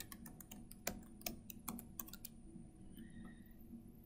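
A password is typed on a computer keyboard in a quick, irregular burst of close key clicks, followed by a quieter pause with faint room tone; no talking.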